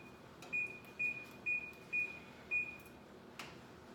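A kitchen timer being set gives five short, evenly spaced electronic beeps about half a second apart, clear over a quiet room hiss, then a soft click.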